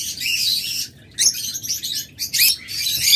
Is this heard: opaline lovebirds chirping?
yes